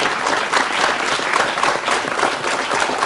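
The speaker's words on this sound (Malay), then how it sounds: "Tepukan kepada diri anda." A television studio audience gives steady, dense applause, loud and continuous throughout the short stretch, with no talking over it.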